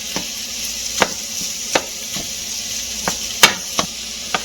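Ground sausage is chopped up with a utensil in a cast iron skillet over sizzling heat, giving sharp, spaced taps and scrapes roughly every half second above a steady background frying hiss.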